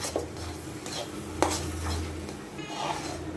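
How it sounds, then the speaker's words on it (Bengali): Semolina with ghee being stirred in a pan gives soft scraping and occasional clinks of the spoon against the metal over a faint sizzle. "সুজির ভিতর আমি আবারও এক চামচ ঘি দিয়ে দেব আবারও ভালো করে মিশিয়ে দেব"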